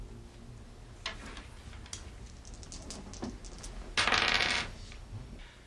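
Dice rattle and clatter onto a hard surface in an office, a scattering of small clicks that ends in a louder burst of tumbling, close and without talking.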